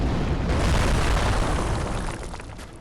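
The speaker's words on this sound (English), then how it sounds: "there will be a secondary explosion" A loud arcane explosion bursts in a video game boss fight against Amygdala, a dense, sustained roar of blast energy that fills the whole stretch and slowly fades toward the end, with no voices over it.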